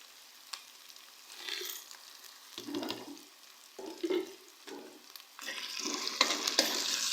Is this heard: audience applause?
no